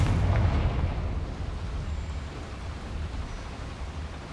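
A Confringo spell explosion in the Hogwarts Legacy video game, a loud booming blast at the start that rolls into a long rumbling decay.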